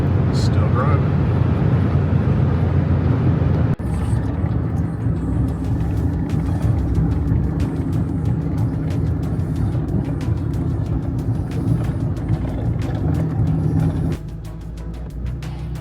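An RV towing a trailer travels down the road, producing a steady low engine drone and road rumble inside the cab, with a brief bump partway through and people talking over it.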